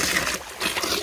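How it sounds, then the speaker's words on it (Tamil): Irrigation water trickling and flowing into a garden tank, a steady close watery rush with gentle splashing that carries on without a break through the short stretch. "இங்கே பார்த்தீங்கன்னா தொட்டியில் தண்ணி போய்கிட்டு இருக்குது."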